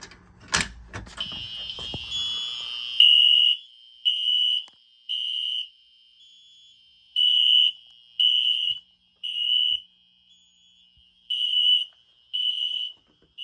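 A Spectral Classic fire alarm horn blares in steady, repeated bursts with short gaps between them, loud and close, following some brief handling noise at the start.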